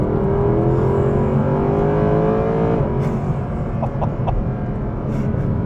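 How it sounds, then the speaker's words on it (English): A Mercedes SLS AMG Black Series with a naturally aspirated V8 accelerates hard, its loud engine note climbing steadily in pitch, then dropping briefly at a gear change before pulling again, heard from inside the car without talk. "There's nothing like driving a nice naturally aspirated V8 too."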